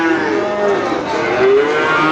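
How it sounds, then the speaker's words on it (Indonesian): Cattle moo loudly and repeatedly at a livestock market where young beef cattle are being bought, with several overlapping drawn-out lowing calls over a steady crowd din. "Wah, agresif sapinya ya."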